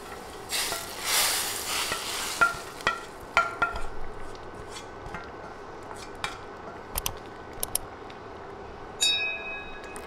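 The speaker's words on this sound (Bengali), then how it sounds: "ভাজতে ভাজতে বাদামি হয়ে এলে এখন বাগারটা সাথে সাথে ডালে ঢেলে দেব" Tempering fried until brown is poured into red lentil dal, setting off a loud burst of sizzling that dies down within seconds, followed by scattered clinks of a spoon against the pot.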